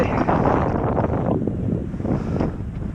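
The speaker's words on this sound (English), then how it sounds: "It's 47 degrees and it's got a little bit of a wind." Cold 47-degree outdoor wind buffets the microphone in a steady, loud, broadband rumble that lasts the whole stretch, with no voices.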